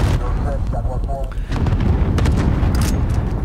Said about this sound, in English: I got cornered by a grenade there